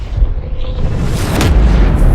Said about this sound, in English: One of those shots where the explosion's so big and bright